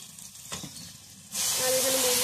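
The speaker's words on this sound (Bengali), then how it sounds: "আর এখানে বৌদি ছোলার ডালটা ঢেলে দিলাম, ভালো করে কষতে থাকবে।" Chana dal is poured into hot oil in a home kitchen for frying, and a loud, close, broad sizzle bursts in and keeps hissing steadily after some quieter clatter beforehand.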